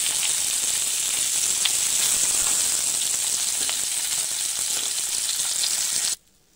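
Rui fish sizzles steadily in hot oil as it fries for a vegetable curry, a loud, continuous crackling hiss that stops abruptly near the end.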